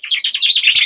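A dimorphic finch sings a quick run of bright, high chirps and twitters, close and clear with no other sounds.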